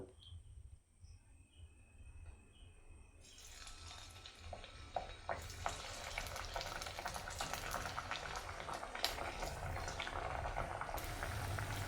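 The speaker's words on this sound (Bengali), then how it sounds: "এবার আমি কড়াইতে তেল দিয়ে এগুলো ভেজে তুলে নেব" Raw potato snacks dropped into hot oil in a wok, a quiet start giving way to steady, dense bubbling and sizzling that builds and holds at moderate loudness, with small crackles scattered throughout.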